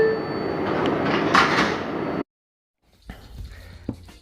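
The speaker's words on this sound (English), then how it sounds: "Stand clear of the closing doors" An NYC subway R142 train's doors slide shut with a broad whoosh and thud, followed by a short silence and then faint car rumble and a quieter mechanical clunk.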